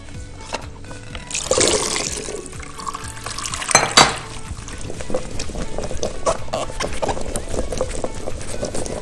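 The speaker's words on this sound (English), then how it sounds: "just drain out this water" Cooking water is poured off a pot of boiled carrots, giving a steady, loud splashing drain that runs throughout with a few heavier gushes.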